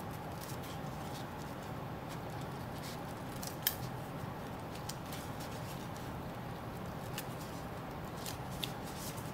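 Scissors trim crepe paper with quiet, repeated snipping cuts, close and soft, one sharper snip standing out, with no talking.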